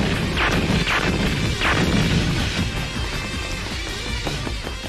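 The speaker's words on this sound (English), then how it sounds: "She keeps blowing my firecrackers away!" Firecrackers burst in a 1990s anime fight scene, a dense run of sharp cracks and booms over a continuous roar, loudest in the first two seconds and then easing into a steady crackling rumble.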